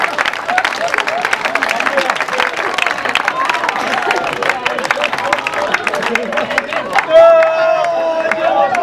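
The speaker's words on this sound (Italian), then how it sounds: "Ragazzi, un applauso" A film crew applauds and cheers after a take on an outdoor set on Linosa, a dense burst of clapping mixed with crowd hubbub and voices, running steadily throughout and ending with a brighter tonal sound near the close.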